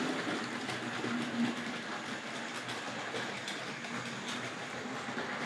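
A Tri-ang Hornby model train runs along its track with a steady, quiet clickety rattle of small wheels over rail joints, faint and continuous with no voices.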